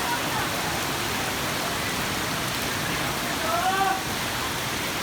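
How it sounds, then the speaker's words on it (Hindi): Rain falls steadily outdoors, a dense, even hiss of drops that stays constant throughout, with a brief faint tonal sound near the end. "बारिश हो रही"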